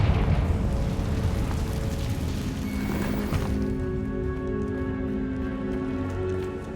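A Confringo fire spell explodes in the Hogwarts Legacy video game: a broad, crackling burst that rumbles for a few seconds, then fades into sustained musical tones.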